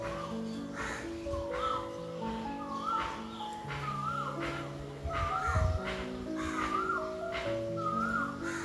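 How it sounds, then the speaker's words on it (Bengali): Asian koel, a cuckoo, calling repeatedly in a rising whistled phrase at moderate distance, recurring roughly every second amid layered background birdsong and ambient noise. "কোকিলের সাউন্ডটা শুনছেন, কত ভালো লাগে শুনতে"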